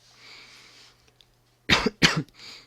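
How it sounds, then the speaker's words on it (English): Two sharp, close tickly coughs in quick succession, following a soft breathy throat sound, in an otherwise quiet room. "Still got that really tickly cough."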